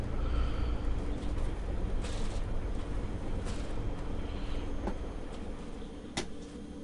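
Simulated train on the Isle of Wight line in Train Simulator 2013, a steady low rumbling hum of the carriage running throughout, with a few faint clicks and a short sharp clunk near the end.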